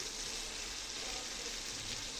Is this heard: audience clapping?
no